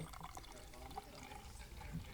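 A 2016 Almanac Grand Cru beer pours steadily into a glass, a soft continuous liquid rush and trickle, fairly quiet and close, with no talking over it.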